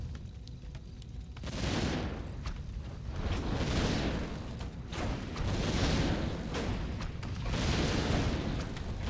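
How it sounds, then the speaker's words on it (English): Mortar fire in a video game: a steady barrage of muffled booms and rumbling blasts that swell in waves over a constant low roar, with no voices. "We got mortars against the tanks."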